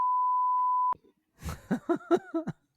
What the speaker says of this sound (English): Andrew, I'll tell you what we're covering if Tucker beeps it in post